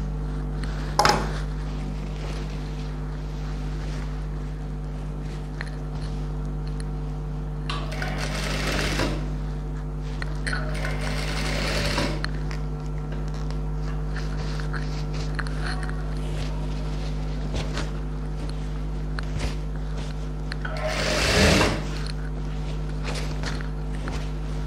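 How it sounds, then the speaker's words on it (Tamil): A sewing machine stitches along the border of a silk pattu pavadai skirt, humming in one continuous, even run nearby, with a few faint knocks and shuffling steps. "ஸோ ஃபுல்லாக நான் அந்த எண்டு வரைக்கும் அதே 3 இன்ச்சஸ் ஸ்டிச் பண்ணிக்கிறேன்."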